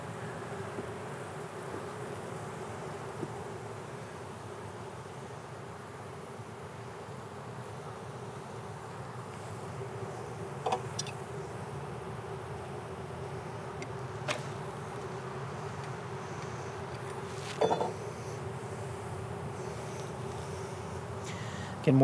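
Honeybees buzz steadily around an observation hive during installation, a continuous low droning hum with a few faint clicks and taps over it, close and even throughout.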